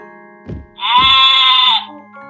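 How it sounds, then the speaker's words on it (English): A goat bleats once in a long, loud, sustained wavering cry, preceded by two short low thumps, with nothing else around it. "Goat."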